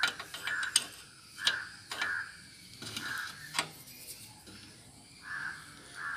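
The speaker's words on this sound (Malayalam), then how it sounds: "പിടിച്ചിട്ട് വേണം ഈ നട്ട് ബോൾട്ട് ഒന്ന് ഊരുന്നത്." Metal nut and bolt being worked loose on a sewing machine stand wheel, giving a series of short ratcheting clicks and clinks in bursts, close and fairly quiet, with no talking.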